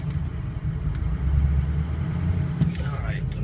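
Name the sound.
2004 Ford F250 diesel engine running, shifted into reverse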